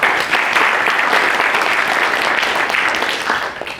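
Sustained applause from an audience at a youth forum, dense and steady clapping filling the room throughout before easing slightly at the end, with no talking over it.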